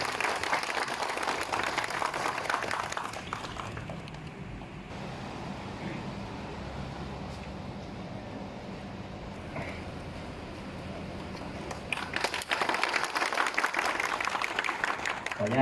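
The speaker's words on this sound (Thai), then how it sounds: "เดี๋ยวทุกท่านปรบมือเพื่อเป็นกำลังใจอีกครั้งนะครับ" Sustained applause from a crowd at a retirement ceremony, loud at first, easing off in the middle, then swelling again toward the end, with voices mixed in.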